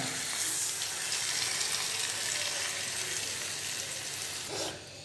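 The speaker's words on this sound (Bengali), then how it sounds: "এই পর্যায়ে দিয়ে দিচ্ছি পানিটা" Water added to a pan of rupchanda (pomfret) fish curry bhuna: a steady, fairly loud sizzle and hiss runs throughout, fading slightly with a brief splash-like burst near the end.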